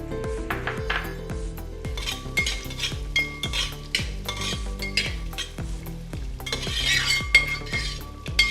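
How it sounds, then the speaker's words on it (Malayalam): Chopped coconut pieces are stirred in hot coconut oil in a pan, with rhythmic metallic clinks and scrapes of the spoon over faint frying and steady background music. "നമുക്കിതിലേക്ക് ഒരു അരമുറി തേങ്ങയുടെ കൊത്തി ചേർത്ത് കൊടുക്കാം."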